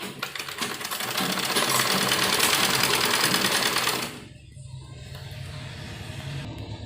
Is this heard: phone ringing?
no